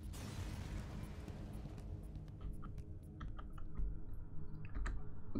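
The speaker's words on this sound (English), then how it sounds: "Is the mouse clicking too loud?" Computer mouse buttons click during play of the game FTL, a scattering of faint, sharp ticks spaced irregularly over a low background rumble, with no talk.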